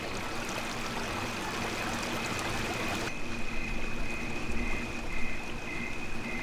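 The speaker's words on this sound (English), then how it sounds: "But you can hear the water flowing." Water flowing at a geyser feature by a lakeside dock at night, a continuous rushing stream with a steady hiss and a faint tonal hum, moderately distant and unbroken, with no voices.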